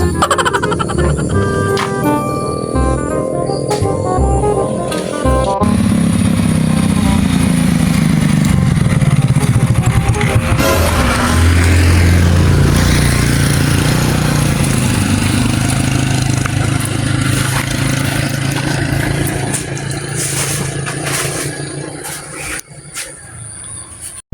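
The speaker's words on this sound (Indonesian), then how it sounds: "Aya euy motor cross teh euy" A motocross bike engine revs and drones loudly nearby, rising and falling in pitch, then fades out toward the end.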